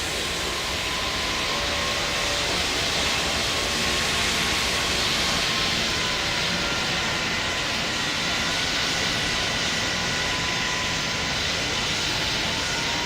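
Jet airliner taking off in the Roblox game Pilot Training Flight Simulator: a steady, loud broadband engine roar with a high whine that holds for the whole stretch, with no speech over it.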